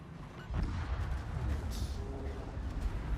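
Torpedo hits exploding on a ship in the World of Warships PC naval game, a deep rumbling boom that swells and lingers under a low, continuous battle din.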